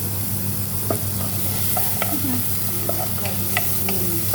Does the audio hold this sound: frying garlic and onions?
yes